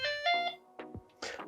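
Startup chime of a Cecotec Bongo Series A electric scooter: a brief bright tonal melody of a few clear notes, followed by softer clicks and rustling handling noises nearby.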